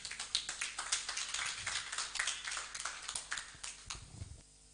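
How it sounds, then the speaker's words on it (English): An audience at a startup demo day event claps in dense, irregular bursts for several seconds, then the applause thins out and fades near the end. "Please, another round of applause"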